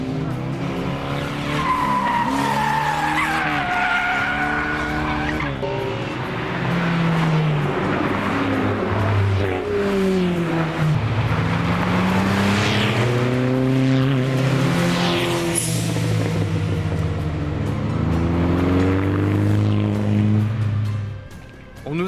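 Race cars, both classic and modern, at the Limoges Grand Prix event, their engines roaring loudly and continuously with rising and falling revs and a brief tire skid, dense and close throughout.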